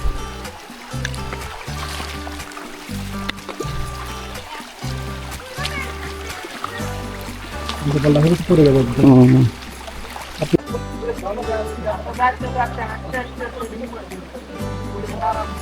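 Water splashes and trickles as someone wades through a shallow stream on the Napittachora forest trail in Bangladesh, with voices talking over the flowing water and music in the background.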